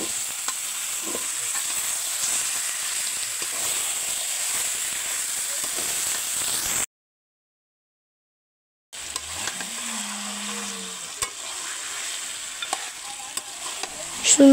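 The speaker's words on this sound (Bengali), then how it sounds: "সুন্দর করে মাংসটা কষিয়ে নিচ্ছে।" Chicken pieces stir-fry in hot spiced oil with turmeric and salt, giving a steady loud sizzle and hiss with occasional spatula scrapes, broken by a brief gap of silence.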